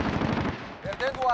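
Bursts of PKM light machine gun fire from the video game Modern Warfare, loud and close, with a brief lull midway before tonal game sounds and more shots follow.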